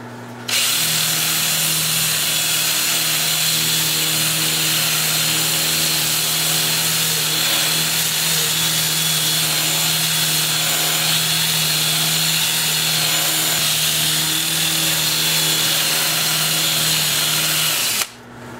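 A 2-inch sanding disc on a power drill working a wooden bowl on a lathe spinning in reverse at 350 RPM, a loud continuous whirring grind held steady for about seventeen seconds, close up.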